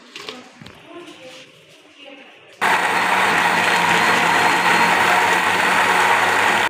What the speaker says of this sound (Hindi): तो ये हमने ग्राइंडर लिया है, इसमें हम डालेंगे हमारे सारी चीज़ें, टमाटर, ये सारी चीज़ें इसमें डाल देंगे।